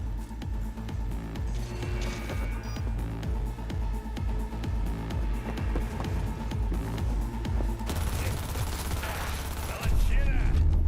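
Rapid bursts of gunfire from a firefight in the video game Cyberpunk 2077 rattle at moderate volume under game sounds and a speaking voice, with a louder cluster of shots near the end.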